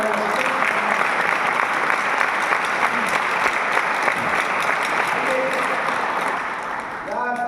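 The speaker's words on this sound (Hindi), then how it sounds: "मैं चाहता हूँ एक जोरदार तालियां" Loud, dense applause from a seminar audience, sustained for several seconds, with a voice briefly heard near the end.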